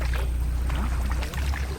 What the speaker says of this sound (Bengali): আমরা এবার ডিঙি নৌকায় করে ছোট্ট একটি খালে ঢুকছি।